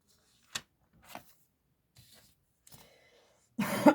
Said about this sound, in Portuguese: essa tosse tá chata, né?